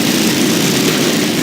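A car engine turns over and idles after the ignition button is pressed in a demolition derby video game, a steady, loud low rumble and drone running continuously without any voices.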